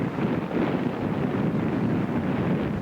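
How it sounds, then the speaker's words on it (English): Steady, roaring wind buffeting a microphone outdoors on a large beach in Nova Scotia, a continuous low rumble with no pauses and no voices. "Very windy out here."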